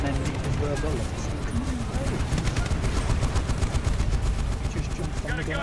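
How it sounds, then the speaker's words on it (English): Rapid bursts of machine gun fire rattle in the Medal of Honor video game, a dense stream of sharp shots mixed with other battlefield sounds. "That's a bigger gun. That's the MG."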